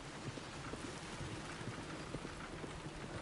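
Horse hooves clip-clopping at a steady pace on a road in Red Dead Redemption 2, a soft continuous patter mixed with rain-like ambient noise, with no voices present.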